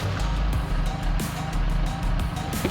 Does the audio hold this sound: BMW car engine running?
yes